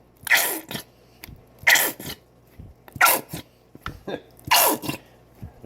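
Ketchup squeezed from a bottle in a kitchen, four wet sputtering bursts with short gaps between them, close and fairly loud, with faint background hum.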